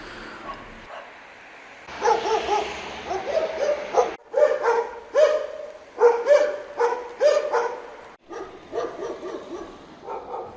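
Several dogs bark from Athens rooftops in bursts of sharp, repeated woofs and yips. The barking is fairly close and overlapping, with brief pauses between volleys and no talk.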